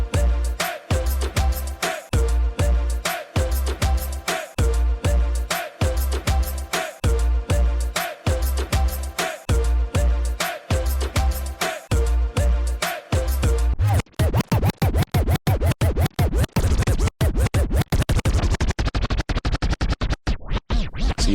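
Dance track played through a Pioneer DDJ-1000SRT DJ controller, a loud pounding beat with a steady pulse that turns into rapid stuttering chops and scratch-like cuts partway through, with no one talking.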